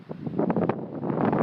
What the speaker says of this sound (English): It's windy as, I'm not sure if you're going to hear this.